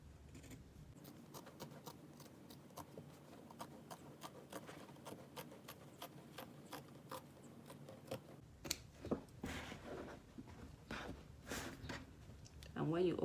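Scissors snipping through fabric to cut a circle for a sewn flower pouch, a steady run of crisp close clicks and snips, with handling rustle and louder bumps toward the end.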